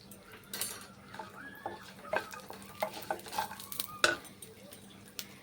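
Peanuts, cashews and raisins fry lightly in a pan with a soft, quiet sizzle, while a spoon stirs and scrapes against the metal in irregular clinks and taps.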